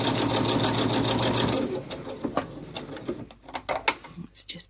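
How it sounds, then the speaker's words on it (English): A sewing machine stitches a quarter-inch seam on a quilt block for an Irish chain pattern, its rapid motor whir running steadily for about a second and a half, then stopping, followed by fabric handling, clicks and taps, with a voice speaking nearby. "1/4 inch seam. Away we go. Put your needle down first, Helen."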